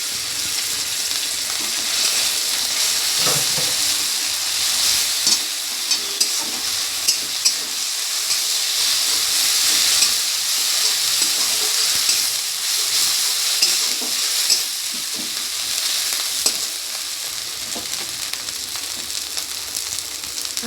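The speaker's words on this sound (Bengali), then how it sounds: "এটাকে ভালো করে কষিয়ে নেব।" Ginger paste and chili paste sizzle and fry steadily in a hot pan as they are sautéed, a loud continuous hiss with scattered spatula scrapes and taps throughout, close up and with no voices.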